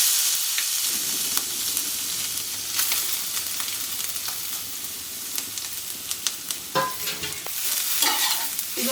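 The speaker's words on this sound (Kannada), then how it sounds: "ಇದನ್ನ ಒಂದು 5 ನಿಮಿಷ ಫ್ರೈ ಮಾಡ್ಕೊಳ್ಳೋಣ." Grated coconut frying in ghee in a pan, a steady loud sizzle with stirring scrapes and clatter throughout.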